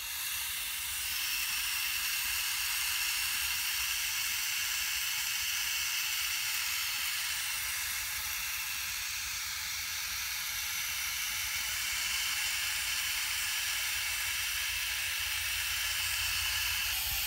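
A garden hose nozzle sprays water onto a compost pile, giving a steady, loud broadband hiss that runs unbroken from start to finish with no talking.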